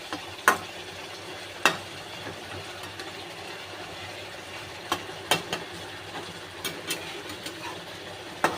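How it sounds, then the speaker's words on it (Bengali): A spoon stirring fasha fish curry (macher jhal) in a pan, with sharp intermittent scrapes and taps over a low, steady simmer. "হালকা আমি একটু নেড়ে দেবো, আর একটু হতে দেব।"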